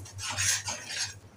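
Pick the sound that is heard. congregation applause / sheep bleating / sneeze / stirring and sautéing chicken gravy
stirring and sautéing chicken gravy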